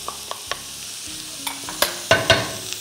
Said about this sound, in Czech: Do takto zarestované cibule přidáme houby.